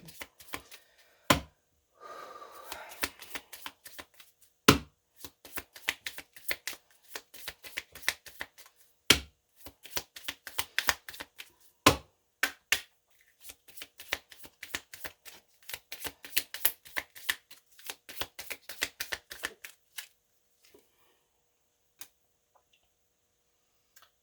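Tarot cards being shuffled by hand: rapid bursts of crisp riffling and flicking, punctuated by sharp taps as the deck is squared, close and clear for about twenty seconds before going quiet.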